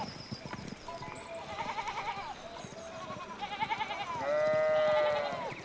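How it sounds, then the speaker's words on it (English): Sheep in the medieval adventure game Pentiment bleat repeatedly over a low ambient bed, several overlapping calls rising in the middle and ending with a long, loud, wavering bleat close by. "we need to get these sheep under control"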